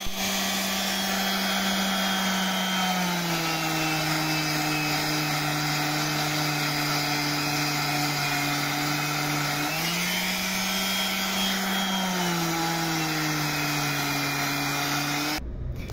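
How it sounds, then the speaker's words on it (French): A power sander works over a filled hole in a wooden boat floor, giving a steady, close, continuous whine whose pitch dips and rises as pressure changes, then cuts off abruptly at the end. "je vais vous montrer, je m'apprête à le poncer"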